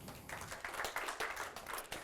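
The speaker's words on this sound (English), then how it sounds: "So big applause for him." Applause from a conference audience welcoming a platform engineer to the stage, a quiet, steady patter of many hands clapping through the whole stretch with no one speaking.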